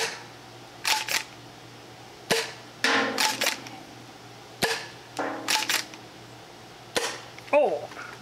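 An XYL KM9 Unicorn toy blaster fires darts in a series of sharp, close pops, some single and some in quick clusters, separated by short pauses with a little mechanical rattle.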